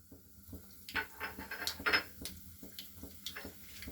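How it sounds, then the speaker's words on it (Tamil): Mustard seeds spluttering in warm oil make scattered, irregular pops and crackles, with occasional sharper clinks like a utensil touching a pan, close and fairly quiet with no voices. "கடுகு கொஞ்சமாக பொரிஞ்சு வருது."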